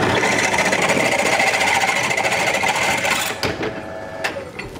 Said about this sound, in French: Donc moi, je vais refaire des trous tout simplement.